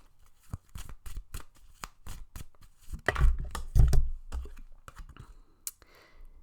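Tarot cards being shuffled and drawn, a run of crisp, close flicks and snaps with a louder riffle and slaps in the middle, then a few last light taps.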